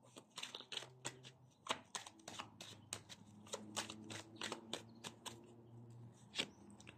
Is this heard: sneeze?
no